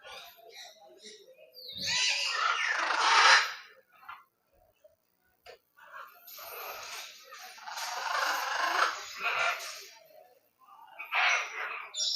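Birds call and chatter in bursts inside a netted safari park aviary, loud at first, then fading to near silence before rising again in busy, overlapping chirps, with people talking nearby.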